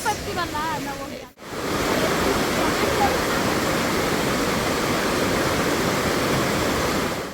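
Hogenakkal waterfall roaring as a loud, steady broadband rush of falling water, close and continuous, with a faint voice and a brief cut near the start.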